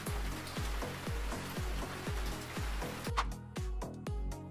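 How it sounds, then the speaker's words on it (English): Rain falling in a steady patter of regular pulsing drops, with a faint continuous hiss beneath, fairly quiet and without talk. "Rain."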